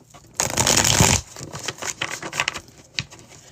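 Close, crisp riffles of a tarot deck being shuffled by hand during a live reading: one long loud burst followed by a series of shorter, uneven flicks and taps.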